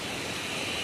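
Rushing river current swollen by rain, heard from a bridge in Dong valley, Arunachal Pradesh; a steady, loud, broadband roar of water that holds constant throughout without pause.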